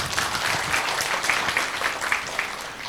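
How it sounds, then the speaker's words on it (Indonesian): An audience at a community outreach gathering in Blora applauds the local cadres, dense, sustained clapping from many hands, moderately loud and even throughout. "Tepuk tanganlah untuk kader Blora."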